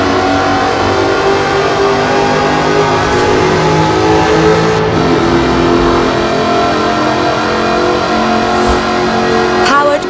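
A supercharged 5-litre V8 with an aluminium body revs and accelerates in Forza Horizon 4, a loud sustained engine roar with shifting pitch and a voice narrating over it.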